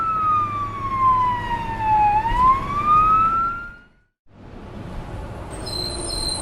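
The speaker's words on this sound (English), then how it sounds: "Ambulance." An ambulance siren wails loudly nearby, sweeping down and back up in pitch over a road rumble, then cuts out abruptly before a fainter tone starts.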